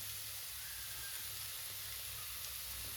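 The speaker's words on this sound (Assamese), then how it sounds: "আলুখিনি এতিয়া ইয়াতে ফ্ৰাই কৰিব লাগিব অকণমান।" Potatoes frying in a pan with onions in a home kitchen, giving a steady, close hiss of sizzling oil that holds evenly throughout with no voices.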